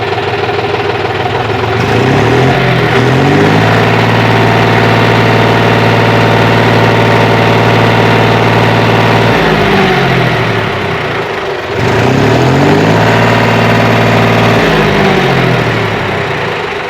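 Old tractor diesel engine idling after starting on the self-starter, a loud, steady rough rumble close by with two brief revving swells, running without any talk.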